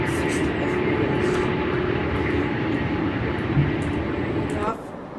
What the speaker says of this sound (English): Off that plane goes right there.